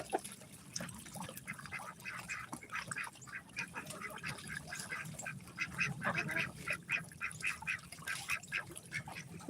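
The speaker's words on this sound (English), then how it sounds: "We got our ducks that are really enjoying their pool right now." Muscovy ducks splash in their backyard pool, giving repeated short quacks and calls close by over a steady watery background.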